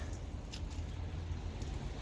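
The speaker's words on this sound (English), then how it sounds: "It's not but hammered down with rain." Heavy rain hammering down beside a canal, a steady, dense hiss of drops on water and surfaces with a low rumble beneath, unbroken from start to end.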